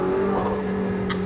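A McLaren W1 hybrid supercar's engine drones steadily, with a brief airy turbo blow-off flutter near the end of the short stretch.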